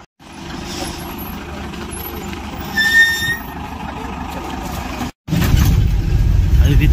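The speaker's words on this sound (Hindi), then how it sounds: "इधर वो आ गई बस अपनी, लाइट चलाते चलाते चलाते।" A bus pulls up at a roadside stop on a misty, cold early morning, its engine rumbling steadily with a brief hiss, then a louder close roar as it arrives.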